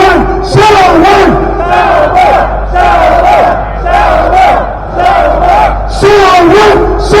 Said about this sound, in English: I want everybody in the crowd to start chanting, Sauron, Sauron, Sauron!